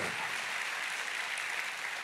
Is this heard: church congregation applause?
yes